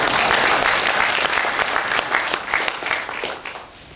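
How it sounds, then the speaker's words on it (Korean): An audience applauds at a Korean church-press founding ceremony, a dense, steady wash of many hands clapping that fills the room and then gradually thins and fades toward the end. "여러분 큰 박수 한번 부탁드리겠습니다"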